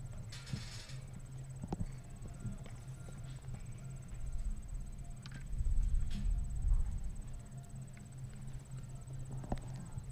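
Hooves of show jumper Theo 160, ridden by Connor Swale in a CSI 5* jumping round, clop faintly and irregularly over a low steady rumble, with insects chirping in the background.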